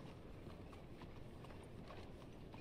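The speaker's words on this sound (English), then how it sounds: "Oh, I got two horses following me?" Horse hooves clip-clopping in Red Dead Redemption 2 as two horses follow along, a steady soft clatter of footfalls over a dense, low rumbling game ambience, fairly quiet and with no voices.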